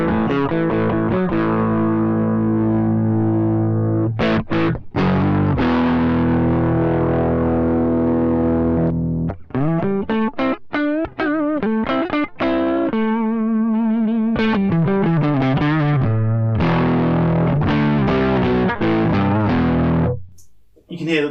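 Harley Benton HB-35 semi-hollow guitar on its middle pickup through a distorted amp, gritty chords and single-note runs played up close, with the grit shifting as the guitar volume changes, alone without talk.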